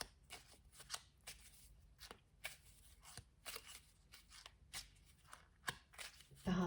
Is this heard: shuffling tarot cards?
yes